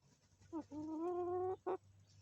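A backyard chicken in a farm enclosure, either a hen or a rooster, gives a short cluck, then a long, drawn-out, tonal squawk and one more short call. It is fairly close, over a low steady hum, with no talking.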